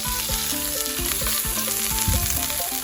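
Store-bought Thai curry paste fries in a hot pan with leftover water, giving a dense, loud, continuous sizzle with crackling spatters throughout.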